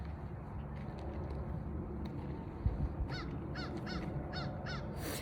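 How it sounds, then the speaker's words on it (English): A crow gives a run of five evenly spaced caws, fairly near, over constant low background noise outdoors. "Confirmation from our crow that has been following me around all day."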